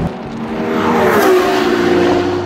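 A Ferrari Portofino M engine in race mode runs loud and steady, its tone rising and holding in a strained high-rev drone.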